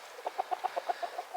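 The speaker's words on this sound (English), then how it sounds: "Look at that crazy chicken down there." Chicken on a farm, scratching in the dirt, clucking in a quick regular series of about nine short clucks, fairly close and clear with no talk.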